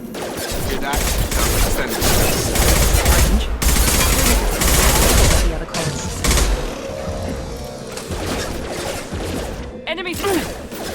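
Combat gunfire in the video game Mass Effect 2, with rapid bursts of automatic fire and heavy impacts layered under game music and voiced dialogue, loud and dense for the first half before thinning out.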